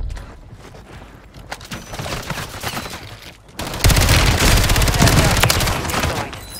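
Gunfire in a first-person video game shooter, with scattered shots building into a loud sustained burst of rapid automatic fire in the second half and a faint game voice early on.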